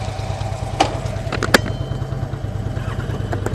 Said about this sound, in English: I'd help if I turned on my engine.